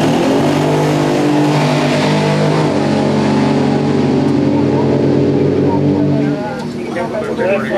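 A six-cylinder nostalgia drag race car roars down the strip at a drag race, a loud, steady engine howl with falling pitch near the end as it passes, while an announcer talks over it.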